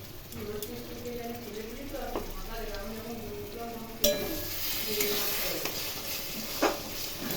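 Mutton curry base with tomato and green chilli paste and ground spices sizzles in a pan as a spoon stirs and scrapes through it, steady and close, with a faint voice in the background and a couple of sharp clinks.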